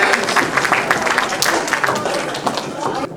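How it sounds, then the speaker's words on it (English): Audience applause greets a volunteer called up onstage at a cultural festival, a steady dense patter of clapping that fills the room with a few louder claps standing out. "Big round of applause."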